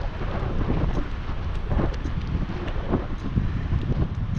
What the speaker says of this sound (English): Oh, I feel that wind just a-blowing.